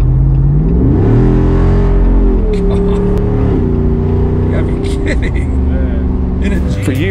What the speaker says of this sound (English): For years, I've longed for a Jeep Wrangler Unlimited with an engine that sounded as intimidating as the Jeep itself